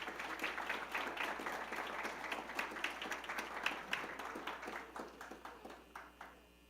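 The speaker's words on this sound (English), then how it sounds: "Let's give another round of applause to our inductees." An audience at a Phi Theta Kappa honor society induction ceremony gives a sustained round of applause, with many hands clapping densely in an indoor hall before it thins out and fades.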